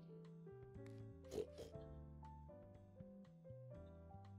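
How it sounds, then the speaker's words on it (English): Pig oinking in the farming game Pumpkin Days, short snorty grunts around the middle of the clip, mixed into steady tonal background music with no talking. "Are you a big pig now, Lolly?"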